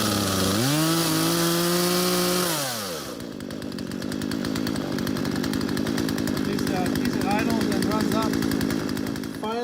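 A repaired chainsaw engine with a newly replaced vent line, which had been plugged, revs up loud and near, then drops to a fast, rough, pulsing idle that runs steadily.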